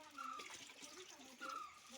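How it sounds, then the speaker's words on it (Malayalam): Leftover water poured into a home fish tank holding catfish, carp and guppies, a steady soft wash of pouring water running for about two seconds at a fairly faint level. "ഈ ബാക്കി വെള്ളം നമുക്ക് ഈ ടാങ്കിലേക്ക് ഒഴിക്കാം"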